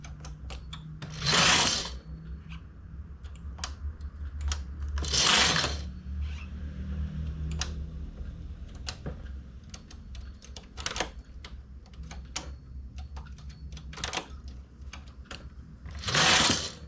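A knitting machine making lace sounds close and clear, its carriage sweeping across in loud whooshing passes every few seconds, with dense clicking and ticking of needles in between.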